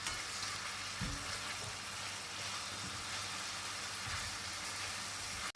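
Chopped onion and bell pepper sizzle and fry in a pan while mushrooms are being cooked, a steady close crackle with a few soft stirring knocks and no talking.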